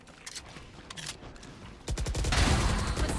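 Gunfire in the tactical shooter Valorant during a competitive match, with scattered single shots that give way to a dense, loud burst of rapid automatic fire in the second half.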